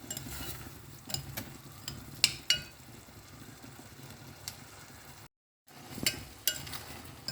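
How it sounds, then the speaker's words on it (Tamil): Tomatoes sautéing with salt in a pan, giving a low steady sizzle broken by sharp spoon clinks and stirring scrapes, with a brief dropout to silence before the sizzling and clinks resume. "உப்பு, தக்காளி கொஞ்சம் வதங்கட்டும்."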